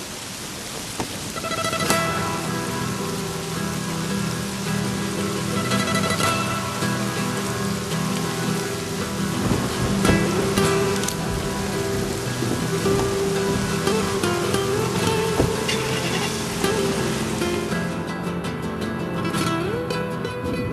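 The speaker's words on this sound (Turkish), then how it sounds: "Yaz yağmur işte." Summer rain pours steadily, a dense broadband hiss of rain on surfaces that continues throughout with scattered louder drops and splashes.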